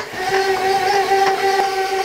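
Blender whirring steadily as it mixes crustless cheesecake batter, a close, even motor hum with a fixed pitch and light rhythmic clatter.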